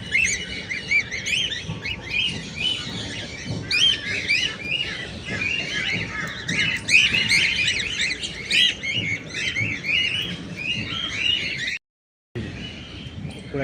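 Bulbuls call at Surat Zoo in a busy, continuous chorus of high chirps and twitters. The calls are moderately loud and last throughout, cutting out briefly near the end.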